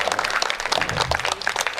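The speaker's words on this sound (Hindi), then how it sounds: "एक बार इनके लिए बहुत अच्छी तालियां बजा दीजिए।" Crowd at a Hindi kavi sammelan poetry gathering claps for a poet, a brief, loud wash of many hands filling the whole moment without any voices over it.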